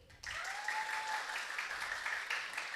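After a brief quiet moment, the middle section of an audience in a lecture hall bursts into clapping on request, a dense, steady round of applause that carries on to the end.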